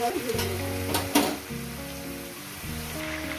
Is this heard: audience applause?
no